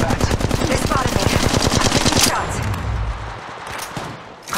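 Rapid automatic gunfire in Apex Legends Mobile, a loud close burst of quick shots for about two seconds that cuts off into a fading tail and quiet.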